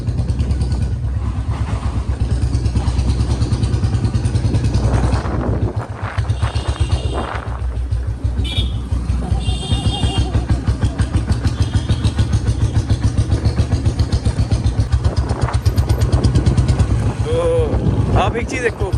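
A motorcycle rides slowly through a narrow city lane at about 20 km/h, its engine putting out a loud, steady, close-up putter that swells and dips, with a voice talking over it at times.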